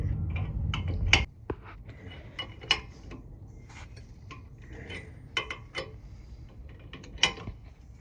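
A suspension tool on a 2008 Dodge Durango is cranked by hand, giving irregular metallic ratcheting clicks and ticks up close, with a low rumble at the start fading away.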